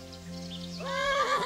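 A horse in the video game Kingdom Come: Deliverance gives a short, rising whinny that swells to a loud, quavering neigh over a low steady hum, with no talking.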